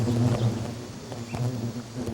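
Hornets buzzing loudly close by as they swarm to attack, a dense droning hum with wingbeats rising and falling around the listener.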